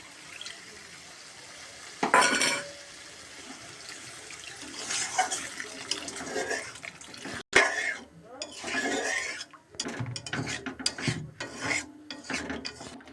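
Water poured into a hot pan of sautéed mustard paste gives a sudden loud hissing burst, followed by bubbling and rough scraping stirs, with a voice talking at times.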